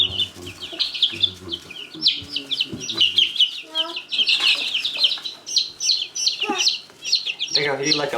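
Newly hatched chicks peep rapidly and hens cluck in short bursts while the chicks are moved from an incubator into a brooder, busy and close, with overlapping calls throughout.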